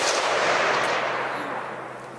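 Single gunshot at an outdoor shooting session in Texas, heard as a loud close blast whose rumbling echo slowly fades over about two seconds, with no voices.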